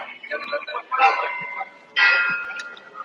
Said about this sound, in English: You can hear the church bells in the background.